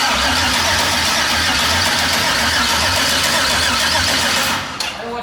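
A built motor in a Mazda RX-7 or Chevy S10 project car turns over and fires, running loud and close with a steady, heavy rumble for about five seconds before the sound drops off sharply near the end.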